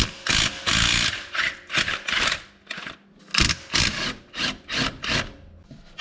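Bolts being worked loose from the gearbox support on a Golf 3, a series of rapid ratcheting bursts with short pauses between them, close and fairly loud.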